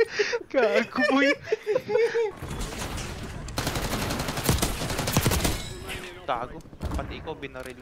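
Gunfire in a BO5 video game comes as a long, loud burst of rapid automatic shots in the middle, with thuds around it. Players laugh and talk excitedly before and after.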